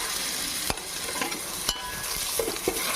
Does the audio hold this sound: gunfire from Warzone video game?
no